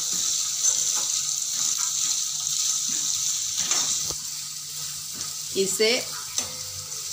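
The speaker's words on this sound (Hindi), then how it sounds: "सुनहरा होने तक हमें भूनना है" Finely chopped onion fries in a pan for a paneer masala, giving a steady soft sizzle with occasional stirring scrapes and clinks, heard close up while a voice says a brief word.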